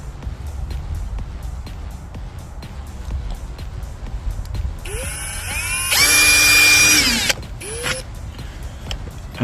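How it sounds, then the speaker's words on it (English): Power drill boring a small pilot hole into an RV, short whining bursts with rising motor pitch, then a sustained loud drilling run followed by a brief final spin-up. "I'm going to drill a small pilot hole."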